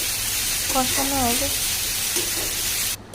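Spice paste frying in oil gives a constant hissing sizzle, and a voice briefly sounds over it before the noise cuts off at the end.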